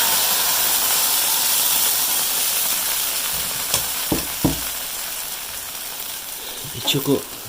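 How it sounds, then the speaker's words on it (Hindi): Semolina being stirred into hot sugar syrup for makhandi halwa gives off a constant frying hiss and sizzle, with a few scraping knocks of the stirring spoon near the end. "इसको अच्छी तरह हमने हिलाते जाना है"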